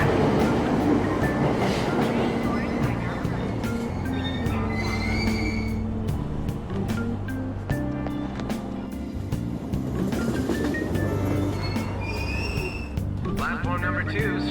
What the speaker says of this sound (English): Train doors are now closing. Please stand back.